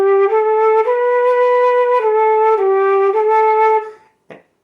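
A flute plays the lullaby Gently Sleep, a slow run of clear sustained notes stepping between pitches for about four seconds, then a short breathy tail after the melody ends. No talking.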